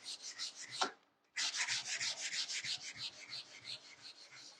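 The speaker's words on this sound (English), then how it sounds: "go ahead and sand this end here" Sandpaper rubbed back and forth against the end of a wood-turned table leg, a steady series of close, raspy strokes with a brief pause partway through before the rhythmic scraping resumes.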